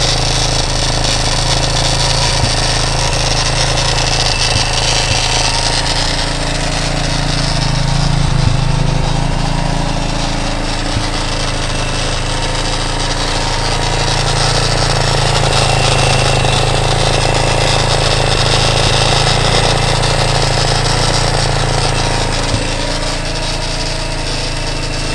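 A swapped 230 engine in a CTX200 motorcycle frame idles up close, a loud, continuous low rumble with slight swells that holds steady throughout.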